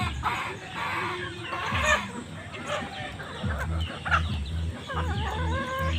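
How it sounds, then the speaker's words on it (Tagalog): Chickens clucking close by in a busy flock, with scattered squawks and short calls overlapping, and brief bits of voice in the background. "Ayan mga idol, manok ko."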